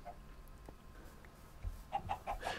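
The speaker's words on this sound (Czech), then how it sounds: "Tyhle ty červené slepice se vyskytují taky speciálně v tomhle biomu" Red chickens cluck in a video game biome, a short run of four or five quick clucks near the end after a quiet stretch with scattered soft sounds.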